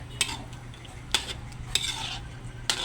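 A utensil stirs chicken pastel filling with evaporated milk in a pan, producing four sharp clinks against the pan over a low, steady simmering hiss close by.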